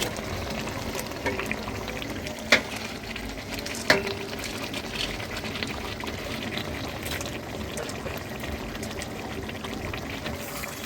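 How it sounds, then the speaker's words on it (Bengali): Chicken pieces for biryani sautéing in a pan, a continuous low bubbling sizzle heard close, with two brief sharp clinks of a utensil against the pan. "এখন এদিকে মাংস কষানো হচ্ছে, দেখতে পাচ্ছ।"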